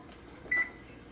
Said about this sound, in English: I'm gonna stop my oven and take out the finished product